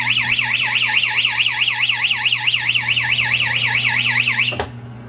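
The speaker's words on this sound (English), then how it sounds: "if you shake it, it actually sounds that alarm" A coin pusher machine's tilt alarm, set off by shaking the machine: a loud electronic siren warbles rapidly up and down without pause, then stops abruptly with a click.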